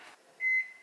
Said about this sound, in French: je vais aller mettre dans le micro-ondes